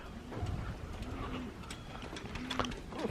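Racing pigeons coo at their loft in the early morning, low throaty calls repeating in slow rounds against a steady background hum.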